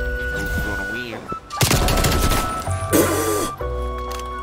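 Assault rifle fire in the video game Black Ops Cold War, a loud dense burst of rapid shots in the middle, set among player voices talking before and after.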